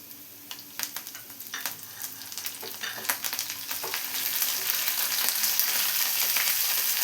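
Shallots, curry leaves and dried red chillies fry in hot oil as a tempering for a drumstick and prawn curry, with a few sharp stirring clinks at first and a sizzle that builds into a loud, steady hiss.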